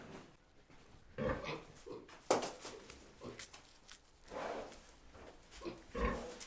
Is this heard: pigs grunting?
yes